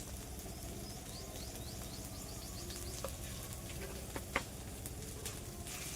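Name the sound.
spices frying and being stirred in pan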